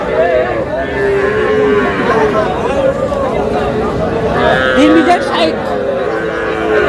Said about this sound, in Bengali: ষাঁড় বাচ্চা, দেশি ষাঁড় বাচ্চা